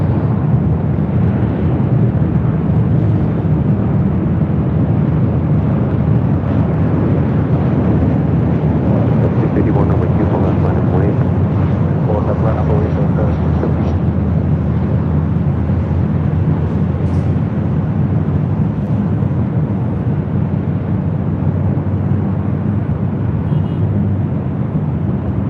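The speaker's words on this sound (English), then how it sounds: "Flight coming in from Vegas" A jet inbound to LAX from Las Vegas is heard outdoors as a loud, continuous broadband engine roar that holds steady through the whole stretch.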